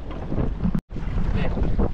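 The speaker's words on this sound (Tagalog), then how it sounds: "lakas ng hangin" Strong wind at sea buffets the microphone in a steady, loud, broadband roar from aboard a boat, broken by one brief dropout near the middle.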